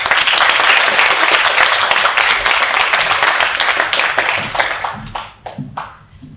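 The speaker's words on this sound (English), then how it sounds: "Warm round of applause for Rosemaire Williams." A large crowd applauds with dense, sustained clapping that thins into scattered claps and fades toward the end.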